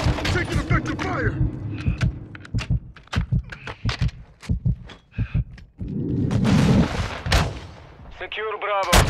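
Rapid, loud bursts of automatic gunfire and heavy booming shots from Call of Duty: Modern Warfare 2, in an irregular rhythm through the whole stretch, with radio-style voices talking over the battle.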